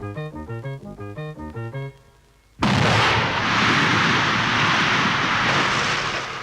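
A rhythmic musical melody plays and cuts to silence. A sudden loud explosion follows, then a long sustained rumbling roar that barely fades.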